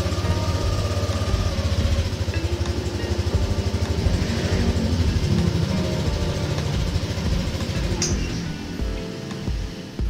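A Yamaha NMAX scooter idles just after starting, its engine giving a close, even rhythmic putter. A short electronic chime sounds near the end before the idle drops away.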